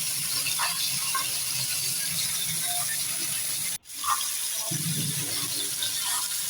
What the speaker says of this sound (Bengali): এই মাছগুলা আমি ভেজে নিচ্ছি লবণ, হলুদ আর মরিচ দিয়ে